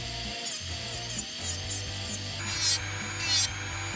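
A small electric nail drill whirs steadily with a high whine, its grinding rasp rising in short repeated strokes as it files.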